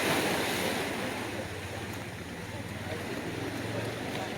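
Ocean waves wash steadily along the Panama coast near the canal, a continuous broadband surf roar with wind buffeting the microphone, heard from the shoreline with no distinct individual breakers and no voices.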